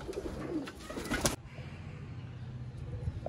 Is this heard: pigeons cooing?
yes